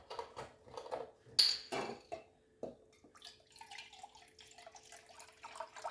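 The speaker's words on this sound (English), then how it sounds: "We're going to add our broth. That's 2 cups. 1 more cup." Broth, measured in cups, is poured into a soup pot for tomato bisque. Quiet splashing and dripping liquid comes with a sharp metallic clink and faint kitchen clatter, heard close but soft.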